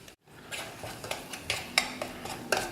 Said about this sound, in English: we will stir this until the tomato starts breaking down